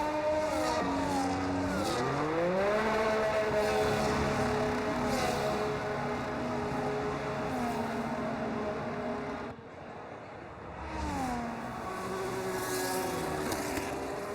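Formula 1 race cars from the video game F1 25 at the Australian Grand Prix howl past close by, engines rising and falling through gear changes, with a brief dip before the revs climb again.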